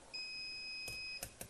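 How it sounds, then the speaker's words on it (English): A kitchen timer sounds a steady electronic beep of about a second, followed by a couple of short clicks or taps in a quiet kitchen where tea jelly is being cooked. "So that's our timer"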